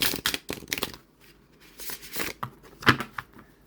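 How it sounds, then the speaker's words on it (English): Riffle shuffling of a Llewellyn tarot deck with decent-bounce cardstock, a few close, crisp bursts of fluttering card riffles with short pauses between, heard alone. "even I should be able to riffle shuffle this"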